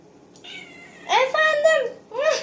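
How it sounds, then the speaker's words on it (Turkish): A six-month-old house cat indoors gives a couple of clear, close meows, one drawn out, with soft background noise and faint voices nearby. "şu buzdolabının üzerinde uyuyan bir kedi."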